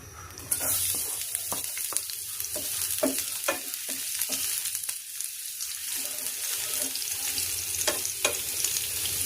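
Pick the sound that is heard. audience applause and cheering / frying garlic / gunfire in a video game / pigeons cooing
frying garlic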